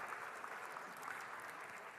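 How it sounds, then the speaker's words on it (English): Faint, steady applause from an audience at a live-streamed event for Ukraine, a dense even patter of clapping heard from a distance with no clear voices over it. "Round of applause, everybody."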